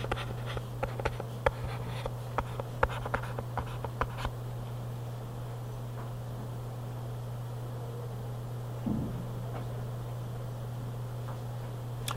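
A back EMF equation for a physics class being written on a board, with scratchy, tapping strokes in quick bursts over a steady hum, fading to near silence with only a faint bump late on.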